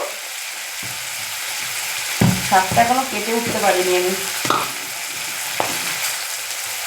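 Tomato fries in a pan with a steady close sizzle and occasional spatters while a person speaks briefly over it.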